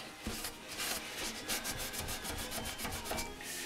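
A rusty part from a Honda NS 250 motorcycle is scrubbed by hand, producing quick repeated abrasive rubbing strokes in an even back-and-forth rhythm, close and fairly loud, with no speech.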